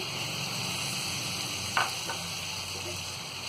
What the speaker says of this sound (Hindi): तो ये टमाटरों को डाल देंगे हम इसमें